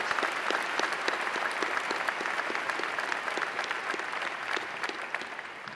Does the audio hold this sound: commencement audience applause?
yes